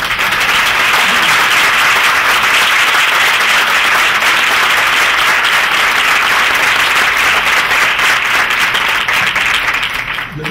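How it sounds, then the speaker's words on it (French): Sustained, dense audience applause fills a medical congress hall on functional gastrointestinal disorders, loud and steady throughout with no speech over it. "mérite une bonne main d'applaudissements"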